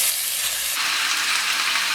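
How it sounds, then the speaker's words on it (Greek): Minced lamb sizzling as it hits a hot frying pan, a loud, dense crackling hiss that swells sharply and then holds steady, close and alone. "θα ρίξω τώρα μέσα το κρέας το ψιλοκομμένο"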